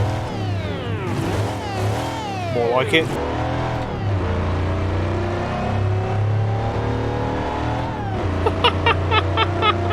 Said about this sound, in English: Can I turn the supercharger noises up on this?